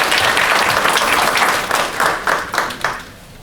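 Audience at a school board meeting breaking into loud, dense applause from many hands that thins out and fades toward the end.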